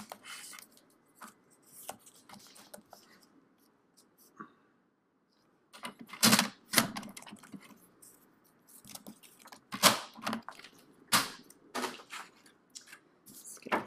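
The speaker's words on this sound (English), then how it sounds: "we're going to take our little strips here and cut us 2 pieces that are just slightly under 3 1/2" Scissors cutting paper strips for a mini album page, a series of close crisp snips and paper rustles in irregular bursts, with a quiet gap partway through and denser, louder cuts afterward.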